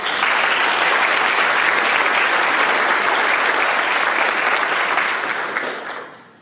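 A large audience claps loudly and continuously, a dense unbroken roar of hands that holds steady for several seconds before tapering off at the end.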